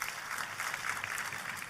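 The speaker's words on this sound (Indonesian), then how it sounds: "kita kasih tepuk tangan buat Angel" A church congregation claps together, a fairly soft, even wash of applause heard from a distance with no one speaking over it.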